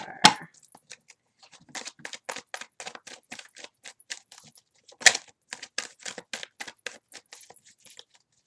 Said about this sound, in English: See how fast I'm shuffling these.